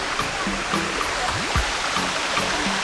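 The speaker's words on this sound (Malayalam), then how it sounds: "ഒരു തോട് എന്ന് പറഞ്ഞാൽ നമ്മൾ ആ വീതി കൂടിയ തോടൊന്നല്ല എന്തായാലും മലയിൽ നല്ലൊരു വെള്ളമാണ്" Narrow mountain stream in a forest flowing steadily, a soft continuous wash of water at moderate distance with no voices.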